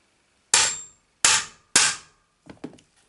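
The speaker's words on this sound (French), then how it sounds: "Tu rentres au marteau." Hammer blows tapping a tool into a part of a Serpent 811 LWB RC car: three sharp, close metallic strikes at an even pace, then a few lighter, quieter taps.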